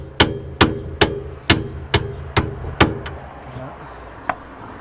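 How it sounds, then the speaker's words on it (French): A heavy hammer strikes seven sharp, evenly spaced blows during a rear brake pad change on a Mercedes-Benz E-Class E 220, each impact ringing loud and close, then a lone fainter tap after a pause. "Donc un marteau lourd, ça aide."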